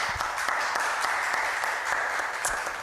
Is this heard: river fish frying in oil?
no